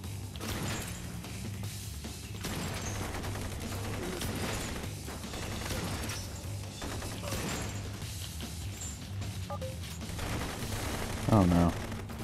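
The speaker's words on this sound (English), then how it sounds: "we got a revolver with exploding bullets" A revolver loaded with exploding bullets fires in the Blue Estate shooter game, a busy stretch of repeated gunshots and impacts over constant background noise and music, with a brief mechanical clatter near the end.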